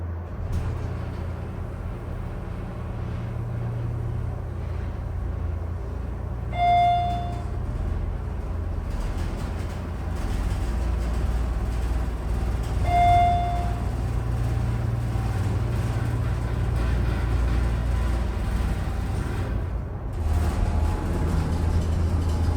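A new TAKA hydraulic elevator at an Orlando resort running, a steady low hum and rumble throughout with two short chime tones partway through.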